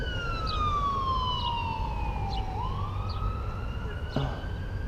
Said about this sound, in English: there's an ambulance coming or something.